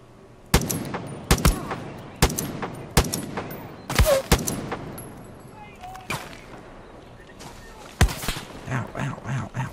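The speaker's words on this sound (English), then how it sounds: "Shooting at me." Gunfire in the video game Far Cry 5: sharp, loud shots in irregular bursts and single cracks across the scene, with a player talking over the combat.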